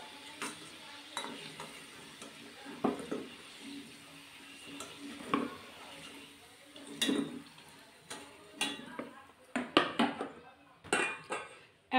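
Fried potatoes lifted from hot oil in a pan, with a faint ongoing sizzle broken by sharp utensil taps and clinks that grow more frequent toward the end, close by.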